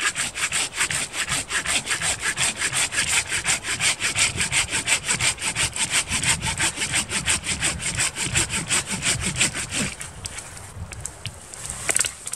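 A hand saw cuts through a small dead standing tree outdoors, rasping in a fast, steady back-and-forth rhythm close by for about ten seconds before the strokes slow and break off near the end.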